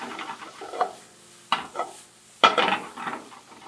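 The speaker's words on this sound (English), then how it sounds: "You want to constantly keep it moving because you don't want it to stick to the bottom of the pan." Vegetables and tomatoes stir-frying in a pan, with a soft sizzle under bursts of scraping as a utensil keeps them moving, two sharper strokes standing out, close and alone without talk.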